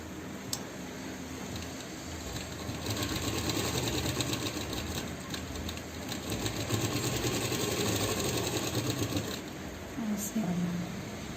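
A sewing machine runs in steady bursts while stitching a velvet pheran, a whirring stitch that comes and goes with a voice instructing over parts of it.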